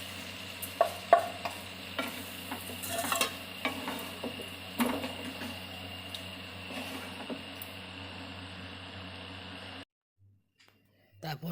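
Fried chicken tipped into a pan of fried onions for a green hariyali chicken dish, giving a soft sizzle with spoon scrapes and clinks against the pan under a voice, before the sound cuts to near silence.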